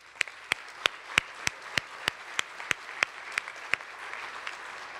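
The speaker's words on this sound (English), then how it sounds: "Please join me in a warm round of applause for the organizations, foundations, and individuals who believe in the future of our Logansport berries." Applause at a high school senior awards night, a thin scatter of claps with a dozen sharp, evenly spaced louder strikes standing out over a soft crowd wash, steady and fairly near for five seconds.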